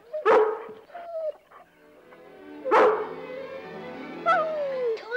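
A dog near a stable gives three loud, close barks spaced a few seconds apart, with short yips and whimpering whines trailing between them and no talking.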